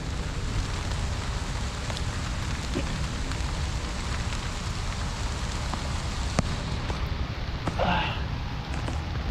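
Steady rain falls in a dense, hissing wash with scattered louder drops, continuous from start to finish at a fairly low level.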